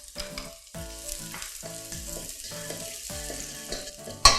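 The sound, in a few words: garlic stir-frying in oil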